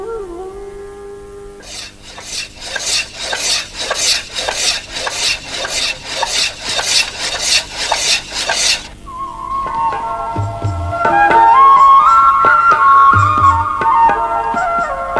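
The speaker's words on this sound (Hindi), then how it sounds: "सीधी हुई थाली का अगला पड़ाव होता है वह घर जहां उसकी सतह की छिलाई होती है" Brass thali plate having its surface scraped in a workshop: rapid, loud rhythmic rasping strokes for several seconds, then a steadier whirring machine tone with scraping accents, no speech.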